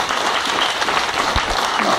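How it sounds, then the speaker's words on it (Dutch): Loud, thundering audience applause fills a concert hall at an Indonesian cultural festival, a dense continuous wash of clapping with no voices over it. "ik zou graag een donderend applaus willen voor Sam Chu."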